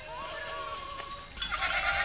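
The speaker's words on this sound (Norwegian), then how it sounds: "Det her kan ikke være våre geiter." Goats bleating in Telemark farm country, a wavering nasal bleat followed by more overlapping calls that grow louder toward the end, heard over outdoor background noise.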